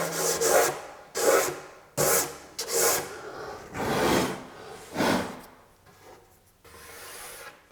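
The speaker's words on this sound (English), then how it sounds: "give the whole thing a good finish sand all the way up to 220 grit with my orbital sander" A wooden display cabinet being finish-sanded up to 220 grit with an orbital sander: loud, close, rasping bursts of sanding repeat every second or so, then fade to lighter passes.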